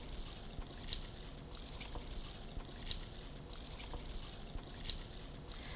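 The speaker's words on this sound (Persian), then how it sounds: "حالا یه 10 دقیقه که این پاستای من پخته الان آماده است، من اینو آبکش میکنم." Water from freshly cooked pasta pours steadily into a colander, with a continuous close splashing rush and scattered drips and no talk.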